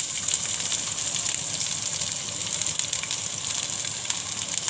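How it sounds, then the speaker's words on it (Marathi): Onion frying in a pan with garlic: a steady, even hiss and crackle of hot oil, moderately close and continuous, with no talk. "आता कांदा घालून घेते"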